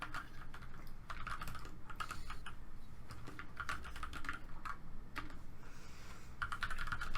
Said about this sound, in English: Uh-oh, it requires typing.